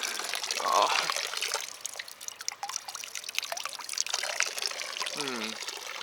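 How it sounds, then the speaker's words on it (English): Fresh Apennine mountain water trickles and splashes from a public fountain in Italy while someone drinks from it, a close, uneven spatter with a few gulps and outdoor background noise. "let me drink for a moment"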